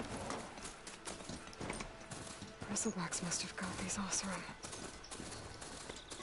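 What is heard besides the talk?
horse hooves in a video game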